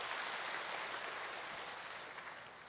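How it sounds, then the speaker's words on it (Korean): An audience at a Korean diaspora world mission conference applauds from a distance, a faint, even wash of clapping that holds steady and tapers slightly toward the end, with no voices over it. "박수가 나오네요."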